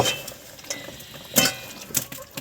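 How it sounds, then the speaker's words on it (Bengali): Fried goja pastries are stirred quickly in sugar syrup in a pan, with soft scraping broken by a few sharp clinks and clatters, close up and with no voices. "আমরা শুধু এখন এগুলো এইভাবে নাড়বো খুব দ্রুত"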